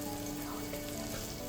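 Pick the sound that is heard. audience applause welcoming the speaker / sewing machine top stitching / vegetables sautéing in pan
vegetables sautéing in pan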